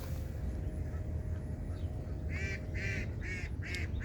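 Ducks quack in a run of five nasal calls in the second half, fairly close, over a steady low outdoor rumble.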